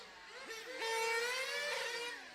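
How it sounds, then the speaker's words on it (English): A 1/10th-scale nitro RC car at a BRCA track championship in Halifax whines up in pitch, then drops and climbs again as its second gear engages, a fairly distant buzzing engine heard alone. "I definitely hear a second gear kicking in"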